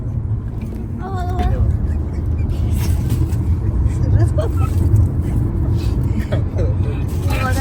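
A car driving on a highway, a steady low engine and road rumble from inside the vehicle, with people talking over it throughout.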